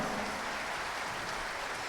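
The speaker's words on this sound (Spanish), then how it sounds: "Un fuerte aplauso, por favor." Applause from a concert audience at a national police band and orchestra performance, a soft, even, distant-sounding patter of many clapping hands that holds steady throughout without any speech.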